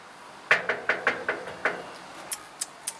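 Knocking on a door: a run of six sharp knocks in an uneven rhythm, then three lighter, crisper taps after a short pause, all fairly close in a quiet indoor setting with no talking.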